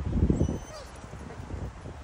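Pet dogs in Marino, Adelaide, Australia whimpering and giving a few yips and barks close by, loudest at the start and then quieter, with a person talking.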